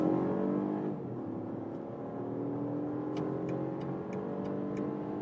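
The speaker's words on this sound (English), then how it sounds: "we can accelerate from 50 kilometers an hour to," BMW SUV in sport shifting mode accelerating on a motorway from 50 km/h, heard from inside as a steady engine drone rising in pitch, with faint ticking clicks near the end.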